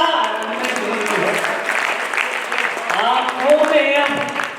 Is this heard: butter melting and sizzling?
no